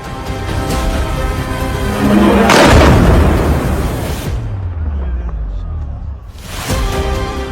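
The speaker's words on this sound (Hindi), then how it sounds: "तेहरान और कराज में जोरदार धमाके के बाद आसमान सफेद और काले धुएं से भर गया।" Missile strikes explode in Tehran and Karaj, with a loud rumbling blast peaking near the middle. Heavy roaring continues before and after it, then it cuts to quieter rumble and another burst of noise.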